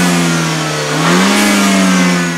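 BMW turbo engine revving close by, a steady mid-pitched drone that climbs in pitch around the middle and holds high before easing slightly, loud with no talk.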